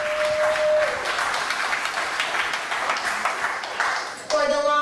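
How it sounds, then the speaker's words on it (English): Audience applause fills a hall at an accelerator demo day in Hong Kong: sustained, dense clapping from a crowd. A brief tone sounds at the start, a short ping at the end, and a voice is faintly present. "So let's have a round of applause for the audience."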